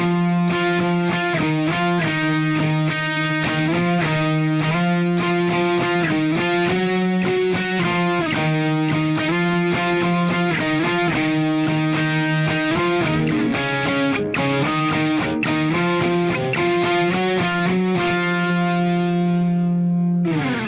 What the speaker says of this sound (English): So all together the solo sounds like this